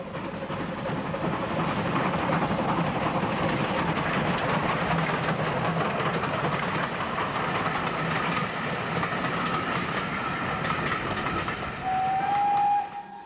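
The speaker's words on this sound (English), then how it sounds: "The giant engine makes light work of the Bluebell's steep gradients." Steam locomotive labouring up a steep gradient on the Bluebell Railway, a continuous chuffing and rumbling roar from the moving train, with a sharp whistle sounding near the end.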